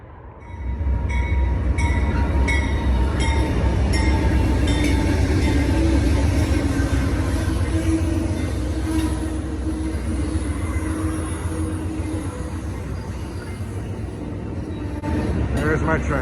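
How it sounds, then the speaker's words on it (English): A passing train seen from a beach at Carpinteria: a loud, continuous rumble of rolling wheels and rail clatter rising quickly and holding steady, with thin metallic squeals and tones above it, fading slightly toward the end. "There's my train."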